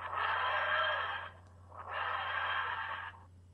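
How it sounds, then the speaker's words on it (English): A mobile phone's text message notification tone plays twice, two bright sustained electronic bursts separated by a short gap, fairly clear and alone over a steady low hum. "If I get a text message."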